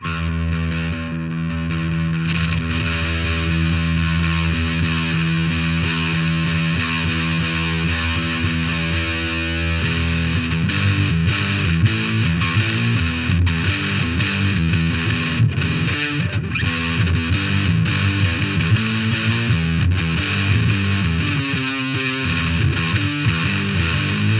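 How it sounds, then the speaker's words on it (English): A distorted electric guitar plays continuously through a DOD American Metal distortion pedal, crunchy and saturated, with chords and riffs changing partway through; no talking. "That's American sounding distortion."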